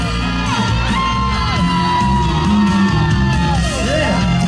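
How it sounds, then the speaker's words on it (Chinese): Concert crowd at an outdoor festival in Donggang, Pingtung, screaming and cheering loudly and continuously, a dense wall of yells and whoops with music underneath. "全场的尖叫声在哪里？"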